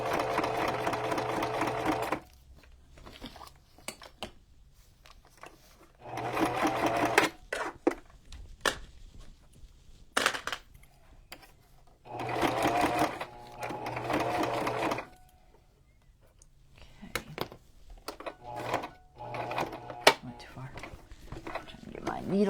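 Sewing machine stitching a junk journal cover, running in several bursts of a few seconds each with pauses between, close up, with a person talking during the quiet gaps.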